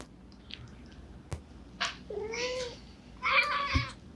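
A cat meows several times indoors, a short call followed by two longer, drawn-out wavering meows, close and clear over a quiet room with a single sharp knock between them.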